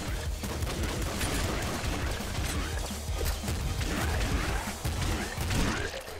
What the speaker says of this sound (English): my fire rate was high right there. Triple machine gun